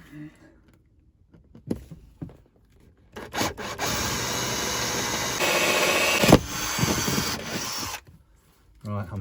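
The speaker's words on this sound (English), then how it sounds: "let's drill me hole" A power drill bores a hole through the body of a Fiat Ducato campervan while LED awning lights are being fitted, a steady loud grinding whine running about four seconds that rises near the end, with short knocks and handling noise around it.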